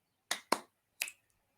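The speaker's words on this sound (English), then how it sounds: "Let's snap." A group claps out three crisp finger snaps during a quick break in a teacher-training webinar: two close together, then a third after a short pause, with no talking.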